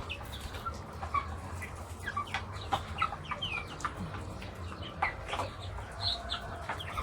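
Backyard flock of 25 native Egyptian chicks and chickens clucking and peeping in a steady scatter of short calls over low farmyard background noise, with no voices.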